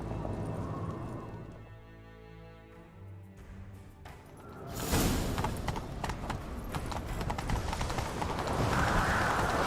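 A horse gallops during a chase in The Witcher 3, a quieter tonal passage giving way to rapid, loud hoofbeats with clattering and rushing movement that build toward the end.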